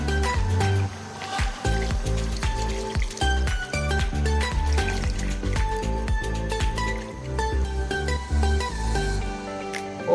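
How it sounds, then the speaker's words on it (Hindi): Water pours into browned chicken in a cooking pot, a continuous liquid splashing and trickling over clattering kitchen sounds and a dense musical background. "पानी ऐड कर देना है"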